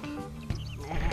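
Sheep bleating in the PlayStation game Sheep Raider, a near, wavering bleat running over a steady layer of game music, with no one talking.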